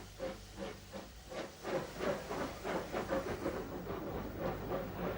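A vintage steam train departing Rolvenden, double-headed by a Brighton Terrier and a Chatham P-Class locomotive, giving rhythmic chuffing exhaust beats with hiss, heard at a moderate distance and fairly faint.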